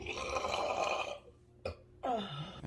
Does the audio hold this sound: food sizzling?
no